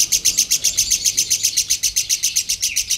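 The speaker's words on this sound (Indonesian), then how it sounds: "Tuh lihat kicauannya." A lovebird, a prize-winning competition bird, sings a fast, loud run of repeated high chirps in steady rhythmic pulses, close and clear with no talking.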